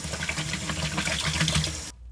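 Tap water runs steadily into a container for cleaning a saxophone, a continuous splashing fill that cuts off abruptly near the end.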